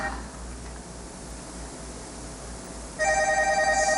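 A telephone rings in a county commission meeting room, with a steady electronic ring starting partway through over a low room hum.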